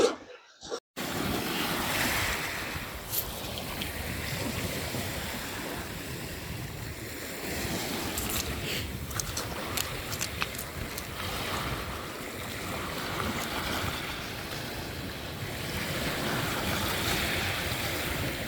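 Surf rolls onto a rocky beach strewn with blue stones, a continuous close roar of breaking waves mixed with gusty wind buffeting the microphone.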